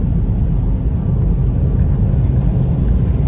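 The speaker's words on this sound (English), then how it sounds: "Plane's taking off too, or a helicopter." A deep, steady roar from a plane taking off during a monsoon thunderstorm in Big Bear, California, loud and continuous with heavy low rumble throughout and no voices.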